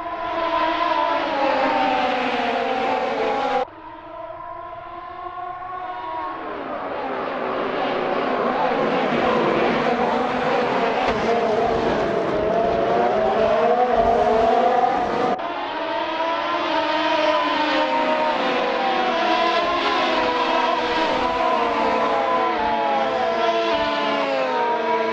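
Formula 1 2020 race car engines in an Assetto Corsa mod, howling at high revs with rising pitch sweeps as gears shift. Loud and continuous, with a sharp drop near the start and another mid-run before the engine climbs again.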